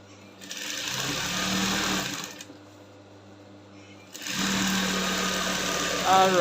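Sewing machine stitching a pencil skirt seam, a close rapid mechanical whir in two bursts separated by a short pause, with a brief voice at the very end.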